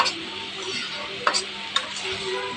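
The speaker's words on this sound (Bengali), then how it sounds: "আমি আবার ভালো করে নেড়ে চেড়ে লাল লাল করে ভেজে নিচ্ছি" Chopped banana stem stirred and fried in a pan makes a soft, continuous scraping and sizzling, with two sharp utensil clicks against the pan.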